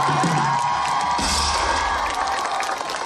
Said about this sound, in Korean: 진심으로 큰 박수 부탁드립니다